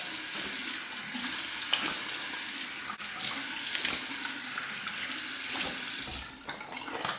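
Tap water runs steadily into a sink for rinsing off after a quick shave, a continuous broadband splash that stays loud and even and then eases briefly near the end.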